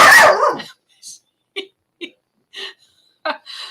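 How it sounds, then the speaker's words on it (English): A dog barks several times during an indoor live talk, a string of short, sharp, moderately loud barks spaced irregularly through the quiet after a brief burst of other sound at the start. "We'll go through some of these while Eric's barking"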